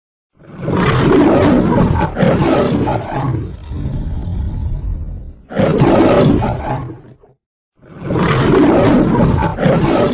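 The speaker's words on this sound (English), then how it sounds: "A lion's roar can be heard up to 8 kilometers away." Three deep, powerful lion roars, loud and close, each a long rumbling bellow separated by short silences.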